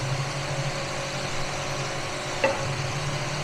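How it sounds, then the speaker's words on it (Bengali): Thick-cut potato sticks fry in hot oil for homemade aloo kathi chips, giving a steady close sizzle with a low hum beneath and a single brief clink about two-thirds through. "আরও 2 মিনিট ফ্রাই করে নেবো"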